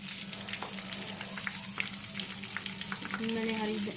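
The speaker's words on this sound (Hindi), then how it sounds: "मीडियम हाई हीट पे इसको फ्राई करना है।" Cheesy rice balls made from leftover rice deep frying in oil on medium-high heat, giving a steady close bubbling sizzle with scattered pops and a low hum rising toward the end.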